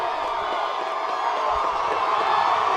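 A high school football crowd at a Connellsville game cheers in a steady, loud, broadband roar that swells slightly toward the end, with scattered shouts in the mix.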